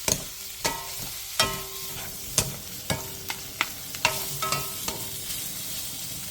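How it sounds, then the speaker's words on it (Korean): Scallops and shrimp tossed in hot oil with browned garlic and leek, a soft continuous sizzle broken by regular sharp clinks of a utensil against the pan, close and clear with no voices. "가리비와 새우를 넣고 기름이 골고루 묻을 수 있게 1분 정도 가볍게 볶아주세요"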